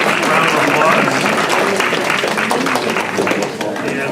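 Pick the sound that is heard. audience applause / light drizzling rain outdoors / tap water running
audience applause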